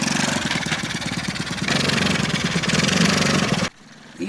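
Engine of a homemade road roller snow vehicle running steadily on a first test drive without snow, a close, loud rhythmic chugging that cuts off abruptly near the end.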